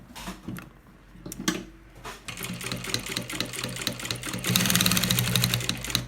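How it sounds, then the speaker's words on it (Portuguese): A sewing machine stitches piping around the edge of a baby bag, running in short bursts and then a longer steady stretch of fast, close mechanical whirring and ticking, with no speech. "Não esquece de deixar o espaço e vamos começar a costurar."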